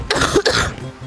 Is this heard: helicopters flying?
no